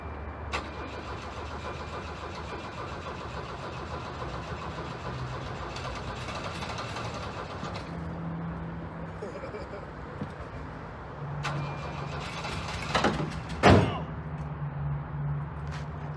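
A $600 auction Volvo 240 cranking and catching, a low engine rumble running steadily, then a brief burst of revving and clatter near the end, with a person talking faintly nearby.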